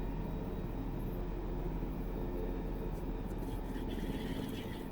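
Sikorsky S-92 helicopter in X-Plane 11 flying low near Lincoln and Scampton, a steady, loud broadband rotor and engine drone with a constant low rumble, no voices.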